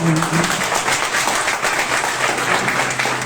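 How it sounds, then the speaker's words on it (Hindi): Seminar audience in India gives a hearty round of applause for a guest, loud continuous clapping filling the room, close and dense, with a low hum and a brief tone near the start. "एक बार जोरदार तालियां"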